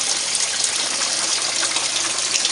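Water gushes steadily into a low aquaponics sump during a leak repair, a dense, continuous rushing pour close by with no pauses and no voices.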